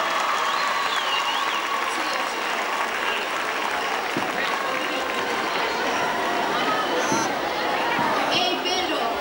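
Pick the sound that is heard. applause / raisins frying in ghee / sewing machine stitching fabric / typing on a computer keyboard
applause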